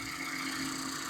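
A Mazda ND Miata with a Roadster Sport muffler and catalytic converters, idling steadily nearby for a brief moment, a smooth even engine hum.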